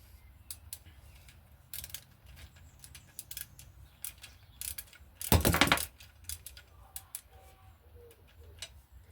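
Torque wrench tightening aluminium bolts on a Stanton SlackLine mountain bike to 8 Newton meters, heard as faint scattered clicks and ratcheting ticks with one louder burst of clicking midway, in a quiet room without talk.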